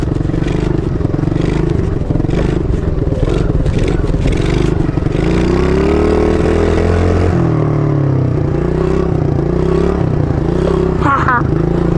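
An MRF 80cc pit bike engine running while being ridden, a loud rough buzzing drone with rising and falling revs and rattling clatter, with someone talking over it.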